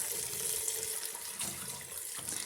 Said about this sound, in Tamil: இப்போ நான் ஒரு 1/2 லிட்டர் அளவுக்கு நான் தண்ணி சேர்த்திருக்கேன்